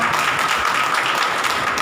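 A church congregation claps hands together in praise of the Lord, a dense, loud, close patter of many hands with no pauses.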